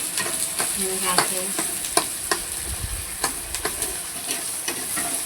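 Red masala fries in a pan for a crispy soybean fry, with a constant bright sizzle and hiss. Scattered taps and scrapes come from stirring throughout.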